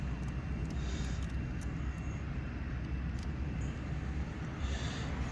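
A 2007 Mini Cooper windscreen wiper motor runs on bridged power with a steady, continuous whirring drone that holds at an even level throughout, with no talk.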